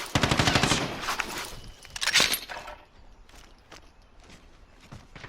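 Automatic gunfire in Call of Duty: Warzone on PS4: a loud, rapid burst of shots opens, a sharp crack follows about two seconds in, and quieter footsteps and shuffling trail after.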